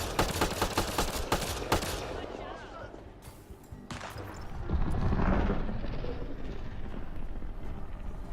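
Assault turret gunfire in the sci-fi shooter Mass Effect Andromeda: a dense volley of sharp shots in the first two seconds, then a rumbling, roaring burst swelling midway and lingering, with game ambience throughout.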